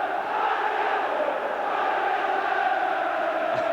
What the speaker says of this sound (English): Crowd trying to raise both sides now.